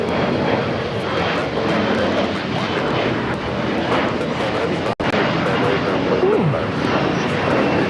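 Boeing 777 freighter jet of China Cargo Airlines, arriving from Shanghai, at a runway at LAX: a steady, broad engine roar holds loud throughout, with radio or voices faintly underneath.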